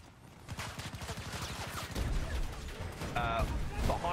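Video game gunfire in rapid automatic bursts, a steady rattling string of shots followed by heavier impacts, fairly quiet overall and mixed with game sounds.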